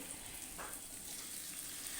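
Steady, soft sizzling of taro flowers frying in a pan after shrimp, a continuous crackle throughout with no voices.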